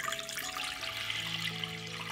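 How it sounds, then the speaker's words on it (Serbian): Two litres of clean water are poured into a cooking pot, making a steady, quiet splashing rush throughout with faint tonal ringing beneath, no voices. "zatim ću u šerpu sipati 2 litre čiste vode"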